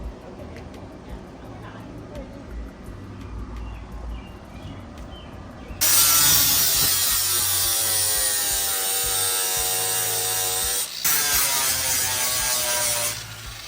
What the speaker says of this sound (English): Now this is a sander that I have on an angle grinder. I'm gonna use this right here to flatten out all the pieces that I just did on the firewall.